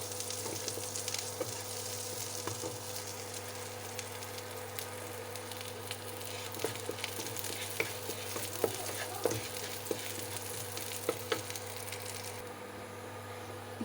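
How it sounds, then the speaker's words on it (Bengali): Chopped garlic and dried chillies frying in a wok: a steady low sizzle with occasional stirring clicks and scrapes, faint and even under a constant background hum. "এবার কুচি করে রাখা রসুন আর শুকনো লঙ্কা কড়াইয়ের মধ্যে দিয়ে দেব।"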